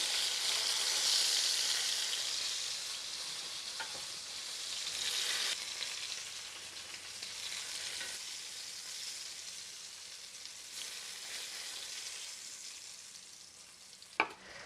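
A batch of eggplant fries in vegetable oil for Pasta alla Norma, browning with a continuous crackling sizzle that is loud at first and gradually softens, punctuated by a few light utensil clicks.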